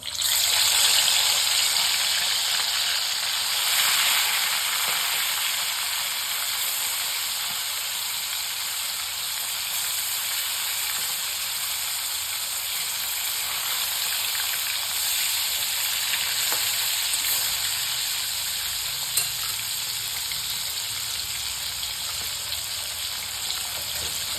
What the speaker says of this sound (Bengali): মাছগুলো আমার এপিট ওপিট করে ভাজা হয়ে গিয়েছে, লাল লাল হয়ে গিয়েছে।